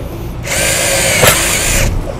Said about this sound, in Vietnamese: Mình sẽ bắn vít gỗ này